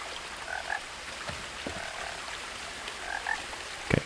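Frog croaking in the video game What Remains of Edith Finch, short paired croaks repeating twice over a soft ambient outdoor bed, moderately distant, with a brief clunk near the end and no talking.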